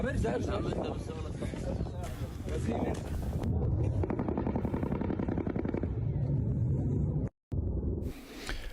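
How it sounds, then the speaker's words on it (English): Rapid bursts of distant gunfire in Gaza crackle under gusty wind noise, with a voice speaking over parts of it. "Lots of gunfire on the ground taking place."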